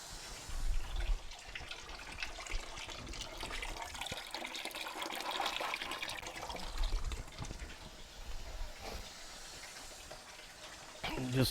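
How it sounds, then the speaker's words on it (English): Water gushes and splashes steadily out of a 1997 Jeep TJ Wrangler's cooling system during a flush, a continuous close rushing stream that swells as the pressure rises, with a voice speaking at times. "Just keep flushing it. I'm opening we're getting a little more pressure behind it now."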